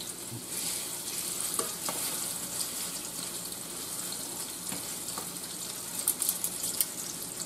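Pork steak browns in a frying pan for a highly seasoned smothered pork steak dinner. A continuous close sizzle carries on evenly, with a few brief louder spatters near the end.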